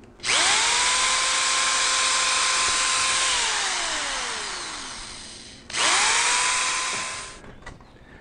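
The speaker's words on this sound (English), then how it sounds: "I'm going to drill the guide holes for the screws" A power drill whirs loudly for about five seconds, its pitch sliding down as it drills screw guide holes into the wood of an outdoor dining table, then a second shorter burst follows.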